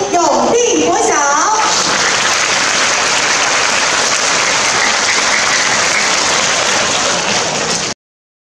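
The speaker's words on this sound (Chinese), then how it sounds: "就让我们再次用热烈的掌声欢迎永定国小" Audience in a performance hall giving loud, sustained applause for elementary schoolchildren at a model-children award ceremony in Yunlin, Taiwan, following brief speech, then the clapping fills the space for about six seconds before cutting off abruptly.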